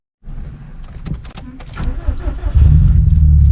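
A 2007 Subaru Impreza WRX STI cranks and fires up, the engine note rising to a loud, steady idle up close after a brief mechanical click and whir.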